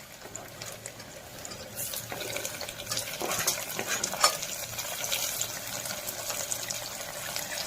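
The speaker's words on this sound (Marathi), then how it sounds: "आता आपण याच्यामध्ये 1 टोमॅटो बारीक चिरला आहे तो टाकणार." Finely chopped tomato tipped into onions already browned in a pan for restaurant-style dal tadka, setting off a steady sizzling hiss that rises after the first couple of seconds and keeps going at moderate loudness, with no talking.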